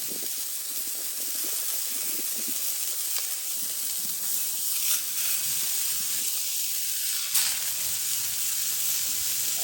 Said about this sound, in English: Get that nice, good sizzling.